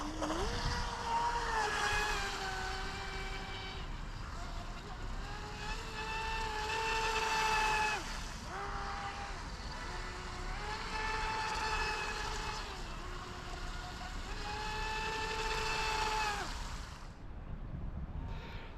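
WLTOYS WL916 RC boat running on water, a high-pitched electric motor whine rising and falling steadily as it speeds and turns, heard at moderate distance with no talking.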